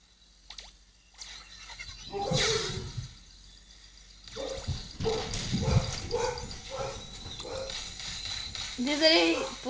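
Several dog barks and yelps ring out in bursts, fairly close, with someone speaking briefly between them.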